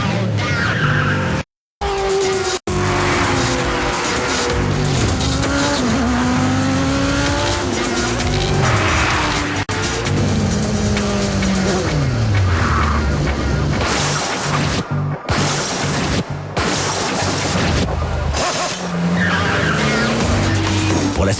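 Race cars in the video game Gran Turismo 4 skid with long, loud tire squeals, engines revving and whining through gear changes, sustained and close, with a few brief drops to silence.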